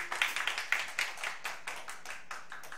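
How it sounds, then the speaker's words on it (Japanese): A small audience at a live tribute concert claps for two chorus singers after a song, sparse separate hand claps fading to a softer patter over a few seconds. "コーラス隊の2人にも大きな拍手をお願いします"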